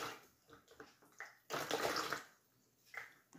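A sponge is swished and rinsed in a large basin of water while glazing earthenware, giving a few short, close sloshes with one longer splashing burst in the middle.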